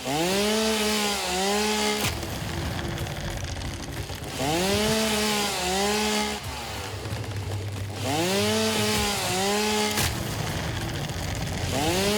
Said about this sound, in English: I think maybe we'll chop down some stuff real quick